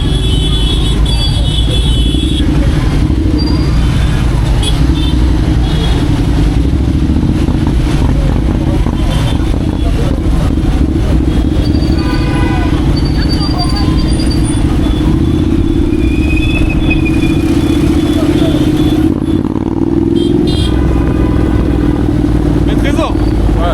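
Dense, loud street traffic in Kinshasa, cars and motorcycles churning together in a steady roar with clatter and horn-like tones, while voices talk over it throughout.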